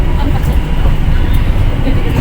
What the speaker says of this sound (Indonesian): kereta api Serayu akan diberangkatkan kembali dari stasiun Purwakarta pada pukul 11:22 waktu Indonesia bagian Barat